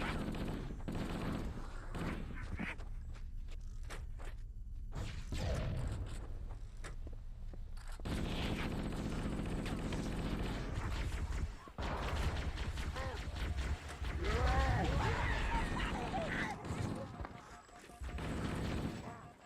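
A dense, continuous barrage of gunfire with rocket blasts in an Xbox demo disc shooter, rapid overlapping shots and bursts at steady loudness, with a brief lull before the firing resumes.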